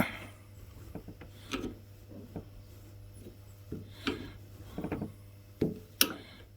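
A flat screwdriver scrapes and levers against the engine housing of an old Honda BIGRED 300FW ATV, producing scattered close rubs, scratches and small metallic clicks at irregular intervals, quiet and without talking.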